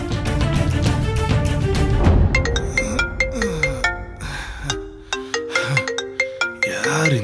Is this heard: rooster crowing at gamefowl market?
no